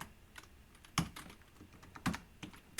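Keys on a computer keyboard tapped in a short, uneven burst while a password is entered, with a few louder clacks standing out against quiet room tone and no talking.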